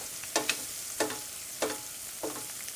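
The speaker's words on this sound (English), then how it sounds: "Tilt your pan towards you gently. Get that butter right in front of you, and then just baste them." Food pan-fries in hot butter as it is spooned over and basted, with a steady sizzle broken by four rhythmic splashing bursts about every half second.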